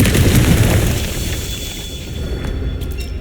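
A Confringo fire spell explodes in Hogwarts Legacy, a loud booming burst up front that rolls off into a lingering low rumble and crackle.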